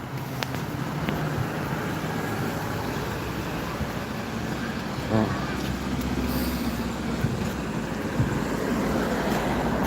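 Evening traffic on a Wexford town street at Christmas, a continuous wash of passing cars and heavier vehicles with brief louder passes and some faint voices around.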